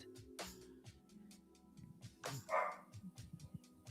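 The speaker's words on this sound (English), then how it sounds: "Okay, one bark." A dog indoors gives a short sharp bark amid soft background clatter and low rumble, with no clear talk.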